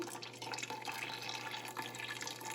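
Dyed yarn drains quietly after a Kool-Aid dip dyeing, with a soft, steady trickle and drip of water running off it.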